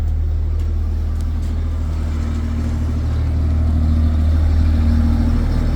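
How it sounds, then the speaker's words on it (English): A 10 kVA Blue Diamond generator runs close by with a steady, loud low engine drone and hum, its pitch and level rising slightly near the end, with no voices over it. "So this is your 10 kVA generator, your blue diamond generator."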